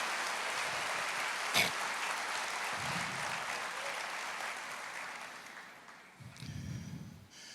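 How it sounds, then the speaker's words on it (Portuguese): A church congregation claps together in a steady, dense wash of applause that fades out over several seconds, with a brief louder burst early on and low voices murmuring near the end. "Aplauda o Senhor."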